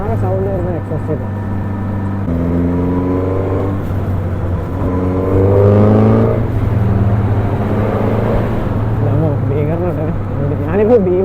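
Exhaust note of a Suzuki GSX-S1000 motorcycle on the move, a steady, refined engine hum that climbs in pitch through gear changes, heard close throughout with a rider's voice breaking in at moments.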